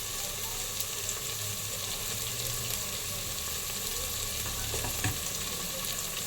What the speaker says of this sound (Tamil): நம்ம குக்கரில் செய்கிறதுனால வெங்காயம் ஓவராக வதங்கணும்னு இல்லை, ஓரளவு குக்கானா போதும்